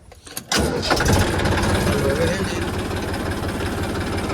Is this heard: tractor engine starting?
yes